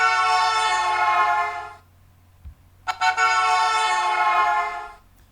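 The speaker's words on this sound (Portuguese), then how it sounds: "Olha o efeito do Doppler aí na buzina." Two long, loud horn blasts with a shift in pitch as the vehicle passes, separated by a short quiet gap and a few soft knocks.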